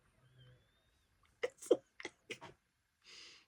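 Several short, sharp sneezes burst out in quick succession nearby, followed by a soft exhale, in an otherwise quiet room.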